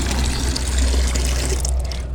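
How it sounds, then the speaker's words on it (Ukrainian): Water runs steadily from a tap as roses soak in a garden setting, a continuous close splashing flow that thins toward the end as the tap is turned off. "зараз закрию воду"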